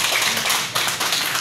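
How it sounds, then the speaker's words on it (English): An audience at a meeting gives a short burst of applause for a newly appointed director, many hands clapping loudly and densely for a moment. "let's give them a round of applause once again"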